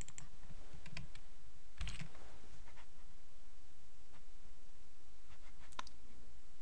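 A computer keyboard clicks with a few soft, scattered keystrokes, including one brief quick burst, as a colour value is typed into a settings box; quiet and close, with no talking.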